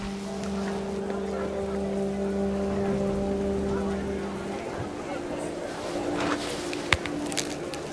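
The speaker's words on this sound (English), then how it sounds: "The rain came down in buckets then" Steady rain patters softly in a video game, over a low engine hum that fades partway through, ending with a single sharp knock.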